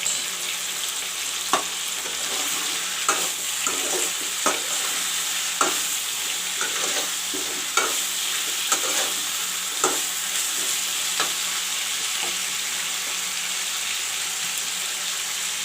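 Potato and chicken drumstick fry in a pan, giving a steady close sizzle broken by repeated sharp scrapes and clinks as the pieces are stirred.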